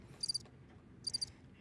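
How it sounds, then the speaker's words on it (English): Crickets chirp in two short trilled bursts about a second apart, clear and close against a quiet low background. "Wow, these crickets, amazing."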